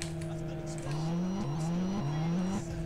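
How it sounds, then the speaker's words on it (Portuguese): A car engine in the multiplayer game SA-MP hums and revs in a steady loop, its pitch climbing repeatedly as if through gear shifts, continuous and moderately loud. "Ó, e o motor, deixa eu ligar ele aqui."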